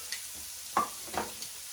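Shrimp fry in a pan with a faint, soft sizzle and a few light stirring clicks close by.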